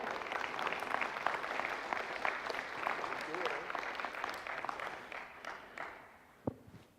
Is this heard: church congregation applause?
yes